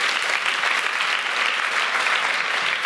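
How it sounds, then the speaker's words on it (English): An audience at a talk on diversity and inclusion bursts into applause, a steady, even wash of many hands clapping close by that holds without pause for the full few seconds. "Round of applause,"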